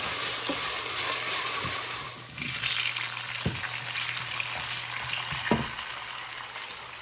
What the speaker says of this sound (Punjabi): ਹੁਣ ਮੈਂ ਤੜਕਾ ਲਗਾਉਂਗੀ